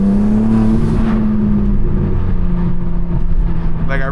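A BMW M4 Competition G80 with intake, catalyst downpipe and mid pipe drones loudly with a deep steady exhaust note from inside the car, the revs easing off toward the end.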